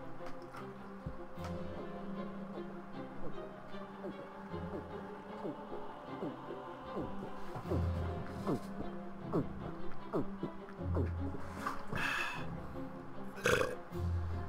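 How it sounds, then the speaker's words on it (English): Several deep, loud burps after a long drink of water, spaced through the stretch over steady game sounds in the background. "Yes, water makes me burp."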